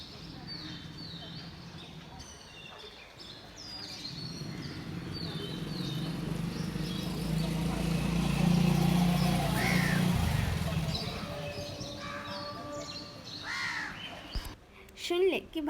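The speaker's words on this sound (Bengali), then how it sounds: "পাখির আওয়াজও আই থিঙ্ক তোমরা শুনতে পাচ্ছ।" Crows cawing and other birds calling at dawn in a quiet residential area, repeated caws and chirps near and far over a low background rumble, with voices talking in the middle.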